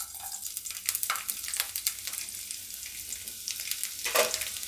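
Chopped garlic dropped into hot oil for a cauliflower curry crackles and sizzles loudly and close, with scattered sharp pops and stirring clatter, and a bright burst of spatter near the end.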